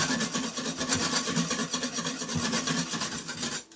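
A wire whisk scrapes browned bits off the bottom of a pressure cooker insert, quick repeated rhythmic strokes rasping against metal, close and steady, with a brief pause near the end.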